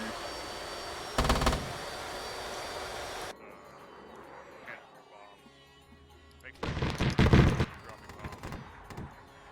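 A 30mm HEI main gun fires in Arma 3, two loud bursts of rapid heavy shots separated by a quieter stretch, with a voice talking between them.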